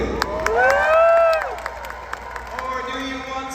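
An audience at a dog show cheers and claps in a short swell that peaks and fades, with a voice ringing out over the crowd noise.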